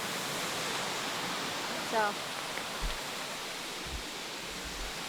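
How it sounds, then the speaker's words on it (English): Broad, constant rushing roar of falling water fills the scene, with a brief voice and a few low thumps over it. "explore a little bit more of this waterfall."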